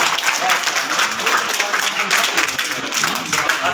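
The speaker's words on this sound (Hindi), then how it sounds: "जोरदार तालियां हो गई।" Loud, dense applause from an audience at a Babasaheb Ambedkar Jayanti procession closing event, steady clapping throughout with crowd noise mixed in.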